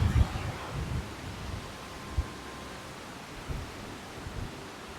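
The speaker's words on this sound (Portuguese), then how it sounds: "tá muito vento também hoje, cara. Muito vento." Strong wind gusts across the open clifftop at Aparados da Serra in southern Brazil, a broad rushing roar with low buffeting thumps against the microphone, steady and fairly loud.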